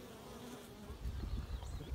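Bees coming and going from a hive inside a house wall buzz steadily, the drone swelling louder in the second half as insects pass close by.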